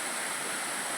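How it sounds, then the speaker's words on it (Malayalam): Uppukkulam waterfall, seen on the road to Karuvarakundu, makes a steady broadband rush of falling water, even and fairly loud with no other sounds standing out. "ഞങ്ങൾ കരുവാരക്കുണ്ടിക്ക് പോകാനുള്ള യാത്രയിൽ കണ്ടൊരു വെള്ളച്ചാട്ടം."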